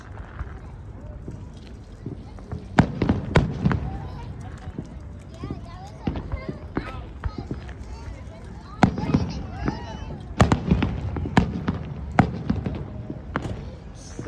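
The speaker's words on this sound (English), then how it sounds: "So many fireworks." Fireworks burst one after another in irregular volleys of sharp pops and cracks over a background rumble, while people talk excitedly nearby.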